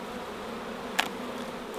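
Wild bees swarming during a hive rescue from a kindergarten produce a continuous close buzzing drone, with one brief sharp knock partway through.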